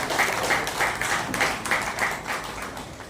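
Audience applause at a Rotary Club of Palayamkottai installation ceremony, a few seconds of steady rhythmic clapping from a moderate crowd with individual claps audible.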